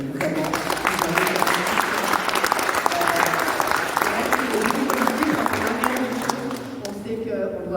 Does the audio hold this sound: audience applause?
yes